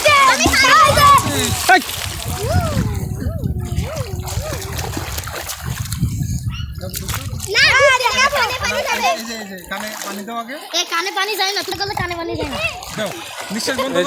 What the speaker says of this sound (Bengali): এরা কি সুন্দর সাঁতরাতে পারে দেখেন বিশাল সাঁতরাতে পারে